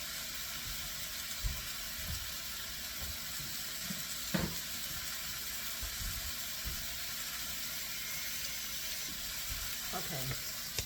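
Ground turkey browns in a pan for a zucchini casserole, giving a steady hissing sizzle throughout with occasional clinks and scrapes of a utensil.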